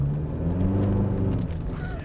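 A Toyota Hilux GR Sport pickup truck engine idles with a steady, throaty low rumble, loud and close throughout.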